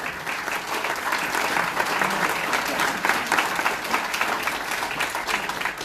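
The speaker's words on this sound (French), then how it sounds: "ça on peut l'applaudir" Steady applause from an audience at a New Year's address in the parish of Sainte-Anne d'Auray, dense clapping sustained evenly throughout, fairly loud and close.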